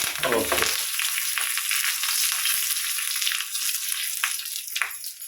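Dried red chillies and curry leaves frying in hot oil, a loud, close, continuous sizzle with crackling bursts and a brief stir near the start.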